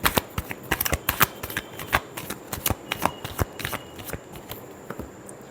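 Tarot cards being shuffled by hand at close range, a rapid run of crisp flicking riffles and slaps continuing throughout with no talking.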